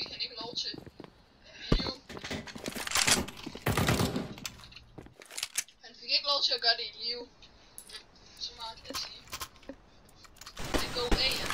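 Rapid bursts of automatic gunfire and single shots in a competitive Counter-Strike: Global Offensive match on the Mirage map, sharp and fairly close, with players talking between the volleys.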